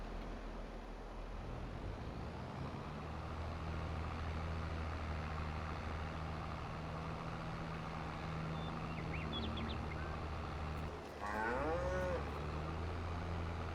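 Cattle in the farming video game Farming Simulator 22, with a single drawn-out moo rising near the end over a steady engine-like drone and ambient rumble.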